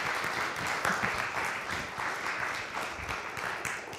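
An audience at a community meeting applauds continuously, a dense even wash of clapping at moderate volume with no talk over it.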